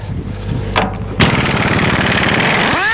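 A CP 3/4 inch drive impact wrench fitted with a 28mm socket hammers loudly and continuously at close range after a short rising whir.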